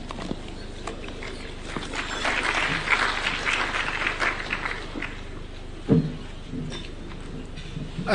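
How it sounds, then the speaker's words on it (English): Audience applause at a church service after a Bible reading by a county governor in Kenya, a broad steady patter of clapping that swells in the middle and fades, with a sharp knock near the end. "A round of applause again to Honorable Governor Waiguru."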